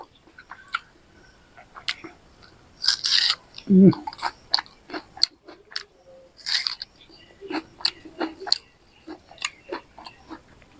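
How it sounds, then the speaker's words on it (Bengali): Raw onion being bitten and chewed close by during a lunch meal, giving sharp, crisp crunches in uneven bursts separated by short pauses, with a voice heard at times. "দারুণ টেস্ট পেঁয়াজটা একটু খাই"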